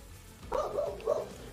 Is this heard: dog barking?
yes